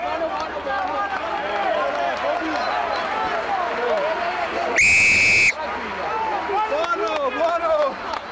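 A referee's whistle sounds once, a loud, sharp blast lasting under a second at a RaboDirect PRO12 rugby match between Treviso and Aironi, over crowd noise and players' voices.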